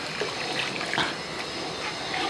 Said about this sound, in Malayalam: ഞാനൊരു കാൽ കപ്പ് അളവിൽ വെള്ളം ഒഴിച്ചിട്ടുണ്ട്